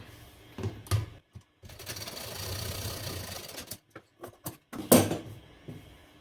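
A sewing machine stitches a Bombay cut blouse in short bursts of mechanical whirring, each run separated by brief pauses, close and moderately loud.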